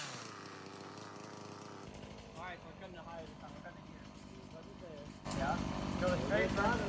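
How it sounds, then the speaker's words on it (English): Chainsaw cutting down a tree during DIY tree removal on a homestead, a steady engine drone that rises louder near the end, with people talking over it. "Now let's see what we can do here with Dalton and the chainsaw"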